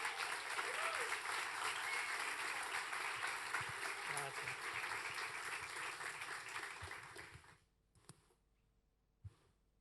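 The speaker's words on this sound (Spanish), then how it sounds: "Recibimos con un fuerte aplauso" Loud, sustained applause from an audience welcoming a speaker at a graduation ceremony, steady clapping for about eight seconds before fading out, followed by a couple of faint isolated sounds.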